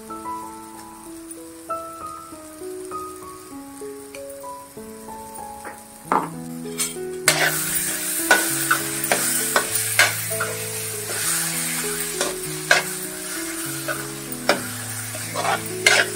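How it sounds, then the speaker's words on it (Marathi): Masala with ginger-garlic paste stirred and sautéed in oil over a medium flame for a palak soybean sabji, with steady sizzling and spoon scrapes that grow louder partway through, all under soft background music. "बाजूनी तेल सुटेस तर हा मसाला परतून घ्यायचा आहे."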